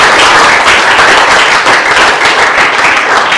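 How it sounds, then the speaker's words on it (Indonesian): A classroom of students claps loudly and continuously for a group presentation in a biology lesson, a dense, even burst of hands lasting a few seconds. "Kita kasih tepuk tangan dulu untuk kelompok"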